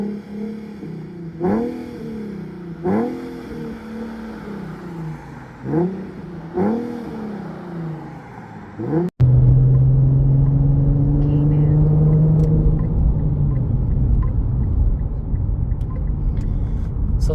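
An Infiniti Q50 fitted with a Remark axleback exhaust is revved several times in a row, each blip rising and falling, then the car pulls away into a steady loud drone with road rumble.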